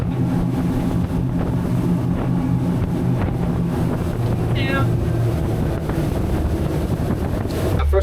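A Sea Pro 265FLX motorboat drones steadily across the water amid gusty wind noise and splashing, fairly loud and constant throughout.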